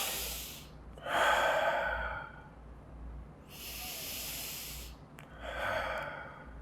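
Slow, audible breaths during a children's chair yoga pose: two long airy inhales and exhales alternating with quiet gaps, close and soft.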